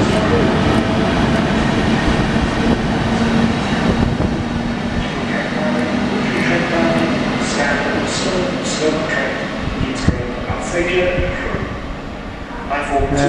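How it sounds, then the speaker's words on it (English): A London Midland passenger train runs along the railway near a station, giving a steady rumble and rolling rail noise with faint clicks throughout, moderately loud and close. "London Midland service 11:42 on its way to Crewe"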